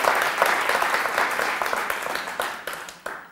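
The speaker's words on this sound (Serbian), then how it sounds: "Hvala lijepo i aplauz za negaciju." Audience applause for the opposing (negation) team at the close of a televised debate on hate speech, a dense, steady clapping from a crowd filling the whole moment, gradually thinning toward the end.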